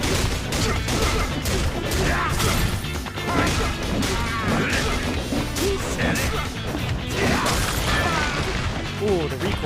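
Baseball nunchucks whacking enemies in Yakuza 0, a dense run of loud smashing hits and thwacks under continuous game noise, with voices over the top.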